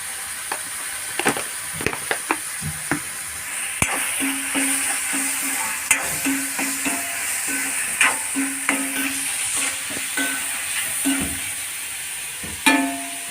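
A paneer bhurji mixture of onion and tomato cooks in a pan, a soft sizzle broken by repeated spatula clinks and scraping strokes, close and fairly loud, with no talking.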